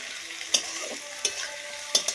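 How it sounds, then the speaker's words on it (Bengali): Onions fry in a pan for a Bengali fish curry, a soft steady sizzle punctuated by three sharp stirring scrapes of a spatula spaced evenly apart. "পেঁয়াজ ভেজে নিচ্ছি, পেঁয়াজ ভাজা হচ্ছে।"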